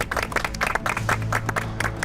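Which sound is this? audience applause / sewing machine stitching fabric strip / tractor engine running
audience applause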